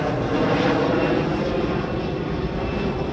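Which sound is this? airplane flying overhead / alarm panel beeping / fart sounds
airplane flying overhead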